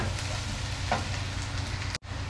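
Garlic sizzles and fries in a hot pan for a Filipino chicken dish, a steady close crackling hiss with a brief dropout near the end, no talking.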